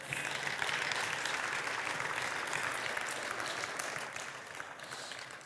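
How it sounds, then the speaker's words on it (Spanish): A church congregation applauds steadily through a service anointing with holy oil, a dense, even wash of many hands clapping together from start to finish at a fairly constant level. "Le damos un fuerte aplauso al Señor"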